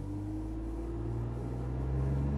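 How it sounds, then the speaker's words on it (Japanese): Daihatsu Atrai Wagon small turbo engine pulling away from a stop with the pedal floored, heard from inside as a steady low droning rumble whose pitch slowly climbs, with no talking. "一旦止まって今アクセルをベタ踏みで、"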